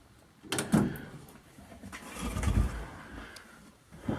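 A metal toolbox drawer slides open, a short scraping rattle followed by a longer rolling rumble and a clunk at the end, close and fairly quiet.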